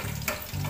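Filetes rusos, Russian-style meat patties, fry in a pan with a loud, close, steady sizzle and one brief clatter partway through.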